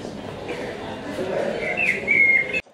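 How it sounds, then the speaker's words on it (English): Birds chirp and whistle in the background amid ambient noise and murmuring voices, with a clearer high whistled call near the end. "There's bird noises and everything."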